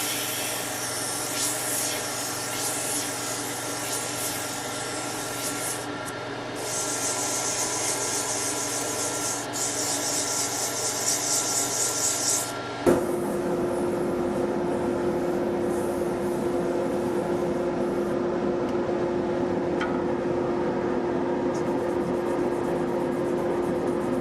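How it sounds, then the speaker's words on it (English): Sandpaper rubbing a spinning tulip wood pen blank on a wood lathe, a steady continuous hiss over the motor's hum, close and even throughout, with a brief shift in tone partway as the grit or pressure changes. "To get it down to those spacers, just going to use a little bit of sandpaper."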